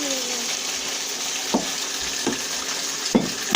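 Food sizzles steadily in a hot pan, a constant hiss broken by a few light clinks of a utensil.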